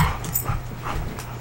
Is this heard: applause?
no